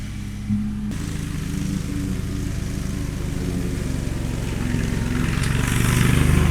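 A lawn mower engine runs steadily and close by, a continuous mid-pitched drone that gradually swells louder over several seconds, with no voices over it.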